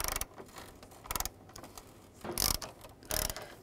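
A ratchet with a 13 mm socket loosening a radiator fastener on a 2007-10 BMW X3, four short close bursts of rapid clicking separated by pauses, with no talk.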